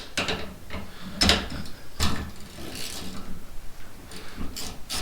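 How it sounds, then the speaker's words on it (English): A hand ratchet works a seized bolt loose on a Ford 7.3 Powerstroke part held in a vise, giving quick clicking bursts close by with brief pauses between strokes. "So now you're going to turn your ratchet on because you got to operate this thing the exact opposite."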